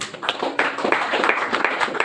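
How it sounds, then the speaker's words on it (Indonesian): Audience members at a church youth commission anniversary evening clap for the organizing committee, a fairly close, lively patter of many hands with uneven rhythmic bursts. "Tepuk tangan buat panitia."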